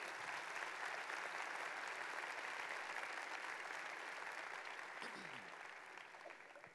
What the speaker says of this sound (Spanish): Eso merece un aplauso fuerte para nuestro Señor.